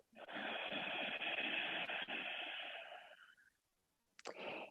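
A long, deep belly breath during yoga with a broad, airy rush like ocean surf, fading out, followed by a brief pause and the start of another breath.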